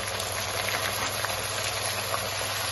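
Onion frying with tomato and onion paste in a pan for a koi fish curry with cauliflower gives a steady, close, dense sizzle that runs on its own without a pause.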